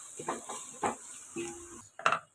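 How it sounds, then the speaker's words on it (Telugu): A spoon stirs turmeric and ginger through a fish curry in a pan, giving a few short scraping strokes over a soft steady hiss, ending in a louder clink against the pot, close by with no talk. "అంతా ఒకసారి దగ్గరికి బాగా మిక్స్ చేస్తుందండి."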